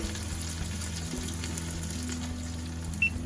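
Onions and celery sauté in bacon grease inside a hot tent while camping, giving a steady low sizzle that holds even and close throughout, with one brief sharp tick near the end.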